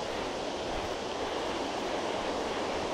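The Babkha River runs through the taiga of the Khamar-Daban range with a steady, close, broadband rush of flowing water. The sound stays even throughout, with no voices.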